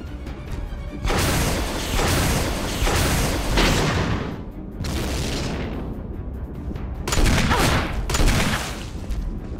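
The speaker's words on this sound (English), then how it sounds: "Will you take the rocket launcher?" Rocket launcher fire in Resident Evil HD Remaster, a series of heavy booming blasts with rumbling explosions and crashing debris, loud and close, several rounds spaced a couple of seconds apart.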